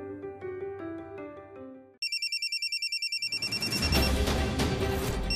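A phone ringtone chimes in a fast repeating electronic pattern, loud and close, after a short stretch of music, with busier sound building beneath it.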